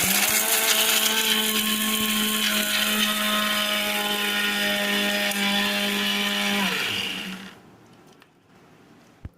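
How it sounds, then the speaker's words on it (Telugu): A mixer grinder jar grinds fried beetroot and meal maker, a loud steady whirring motor hum running for about seven seconds before winding down and stopping, followed by near silence. "మిక్సీ జార్ తీసుకొని ఇవి మిక్సీ పట్టాలండి"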